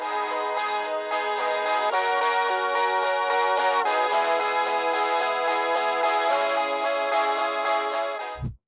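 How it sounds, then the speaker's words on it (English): Heavily distorted electric guitar with a capo placed high on the neck, strumming open chords in a dense, sustained wall of buzzing harmonics that shifts chord every second or so, loud and alone, cut off abruptly at the end. "So I put the capo up pretty high on my electric and I played the open chords"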